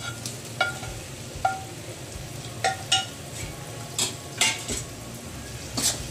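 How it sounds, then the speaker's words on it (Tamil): Prawns and curry leaves frying in masala for prawn varuval, a steady sizzle punctuated by repeated metal spoon clinks and scrapes against the pan at an uneven rhythm, close up with no speech. "இப்போ இந்த ஸ்டேஜில் நம்ம கருவேப்பிலையை போட்டுடுறோம், இந்த ப்ரானையும் போட்டுடுறோம்."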